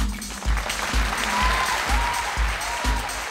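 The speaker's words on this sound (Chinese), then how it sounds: "掌声鼓励" A television variety-show studio audience claps in a short, lively burst, close and continuous, punctuated by a few dull thumps.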